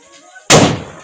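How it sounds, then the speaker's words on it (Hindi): A Diwali firecracker bomb bursts in one sharp, loud blast outdoors in the mountains, after a quiet lead-in, then the bang decays briefly. "ओ भाई साहब क्या ही धमाका था"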